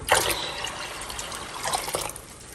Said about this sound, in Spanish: Le voy a agregar más agua.